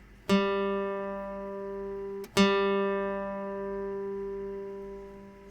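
A single guitar third string, tuned to G, is plucked twice, each note ringing out clearly and slowly fading, heard alone in a quiet room.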